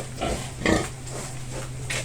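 A pig on a provincial farm grunts and oinks in a few short bursts over a steady low hum, fairly close and moderately loud, with no speech.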